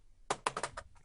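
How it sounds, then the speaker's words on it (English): Rapid computer keyboard typing in quick uneven bursts of clacking keystrokes, close and fairly loud, with no voices over it. "you got a guy typing on his keyboard madly"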